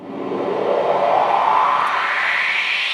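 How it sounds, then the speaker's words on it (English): Worship percussion uplifter effect: a smooth noisy swell that rises steadily in pitch over three seconds, like a cymbal swell, loud and continuous with no voices. "The uplifter is something you would want to use during a build."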